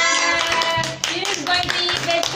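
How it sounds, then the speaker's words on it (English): Children clap their hands together in a classroom, a brisk run of uneven claps with young voices and an adult speaking alongside. "Clap your hands for Chiru, everybody."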